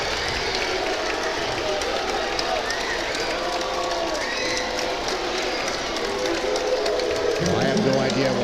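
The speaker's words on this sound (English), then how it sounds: "I'll let the crowd noise speak for itself" A packed gym crowd at a girls' high school basketball regional final roars in sustained, loud reaction to a foul call, a steady wash of shouting and cheering with a voice talking over it.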